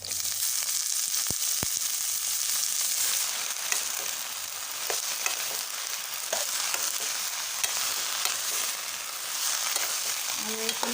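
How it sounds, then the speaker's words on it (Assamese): Leafy greens stir-fry in a pan with onion, turmeric and chilies, giving a continuous bright sizzle throughout with a few scraping stirs and clinks from the utensil. "ভাজি মানে লৰাই থাকিব।"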